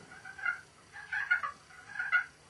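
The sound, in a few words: turkey call imitating soft female turkey noises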